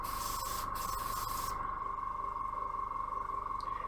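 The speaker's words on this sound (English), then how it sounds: "that's typically the airbrush compressor kicks in" Airbrush compressor running with a loud, steady hiss and a sustained mid-pitched hum, the broad hiss dropping away partway through while the drone carries on.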